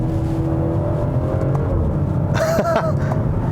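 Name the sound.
straight-six SUV exhaust burble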